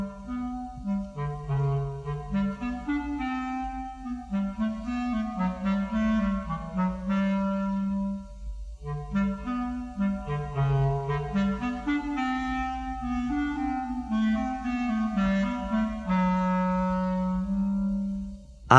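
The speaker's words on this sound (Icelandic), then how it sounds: "Köttin leikur klarinettið." A clarinet plays the cat theme from Peter and the Wolf: a low, smooth, sneaking melody alone, with gliding phrases in its dark lower register, steady and close.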